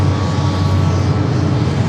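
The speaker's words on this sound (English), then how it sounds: "Singapore 777 up next for takeoff here on the north side." A Singapore Airlines Boeing 777 roars during takeoff at LAX, a loud, continuous jet engine rumble close to the listener, steady throughout with no talking.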